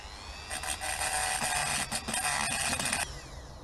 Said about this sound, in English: we're going to try the Dremel with a stone